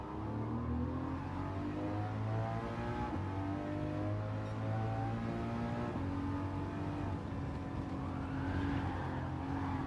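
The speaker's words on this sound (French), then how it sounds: "mais ça dérape beaucoup" A car on sport tires slides through corners in a racing video game, its engine droning and revving steadily throughout with tire scrub mixed into the continuous roar.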